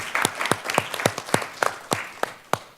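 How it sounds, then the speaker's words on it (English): Applause from a panel discussion audience at Fordham University, with a few loud, distinct claps standing out in a regular beat over a wider bed of clapping hands, steady throughout. "So, give a round of applause for Jack."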